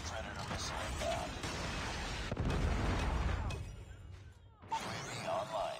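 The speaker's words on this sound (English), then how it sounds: "Friendly predator missile inbound." A predator missile strike in Call of Duty Mobile lands as a heavy, rumbling blast that swells and lingers for a few seconds before fading, with game sounds and bursts around it.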